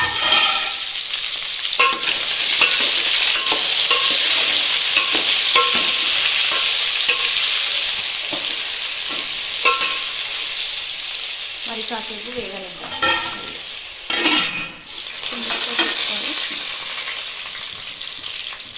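Vegetable pieces fry loudly for Telangana-style sambar, a steady close sizzle broken by scraping stirs and a few louder clattering spoon strokes near the end.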